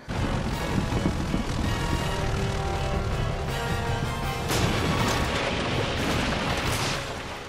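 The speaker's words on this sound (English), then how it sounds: "Jack being shot down, lands right in the middle of trench warfare." Film sound effects of a plane shot down over World War I trench warfare: dense, loud, continuous battle din of gunfire, explosions and crashing, with a roaring engine-like texture and bursts swelling midway before easing off.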